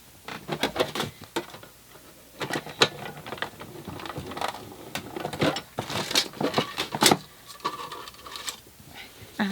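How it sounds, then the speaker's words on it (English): A die cutting machine rolls a sheet of card through its plates, giving a run of clicking, ratcheting mechanical bursts and short grinding passes, fairly close and steady with brief pauses between them. "Pop that through your die cutting machine."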